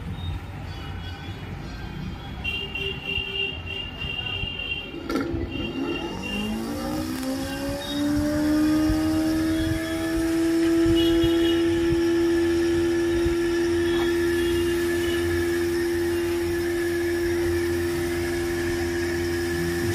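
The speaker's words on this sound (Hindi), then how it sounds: "अभी मोटर चालू कर दीजिए।" An electric motor starts with a thump and winds up to speed, its whine gliding upward in pitch before settling into a steady, loud hum over background machinery.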